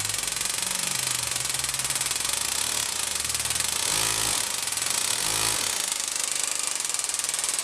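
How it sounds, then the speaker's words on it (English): An engraving tool buzzes loudly and steadily as its ball rattles rapidly back and forth inside the cylinder, with brief shifts in pitch and intensity midway. "you can hear the ball hitting back and forth inside the cylinder"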